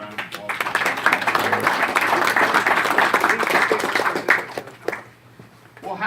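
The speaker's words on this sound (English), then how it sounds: "Just give him a round of applause." Audience at a campaign event in Iowa giving a round of applause, loud crowded clapping that swells and then tapers off, with voices mixed in.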